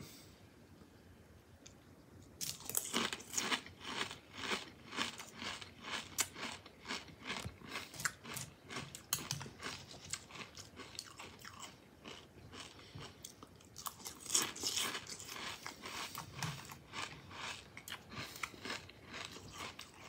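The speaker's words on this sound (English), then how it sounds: "Love the crunch." Kellogg's Frosted Flakes cereal being bitten and chewed, a dense run of crisp, rapid crunches close to the mouth, continuing steadily with a brief quiet start.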